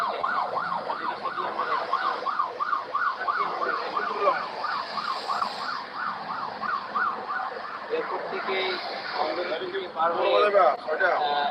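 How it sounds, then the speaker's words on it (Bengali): An ambulance siren wails continuously with a steady rising-and-falling sweep, loud and close. It is part of a convoy carrying bodies through the Halishahar area of Chittagong, with a voice talking over it throughout. "আকাশ বাতাস সব প্রকম্পিত হচ্ছে সাইরেনের আওয়াজে অ্যাম্বুলেন্সের"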